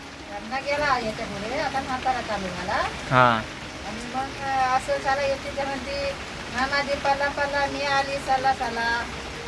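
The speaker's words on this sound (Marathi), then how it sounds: "जोरात पाऊस पडतोय गावीकडे" Heavy monsoon rain pours steadily over a Konkan village, a continuous wash of noise heard under nearly constant conversation.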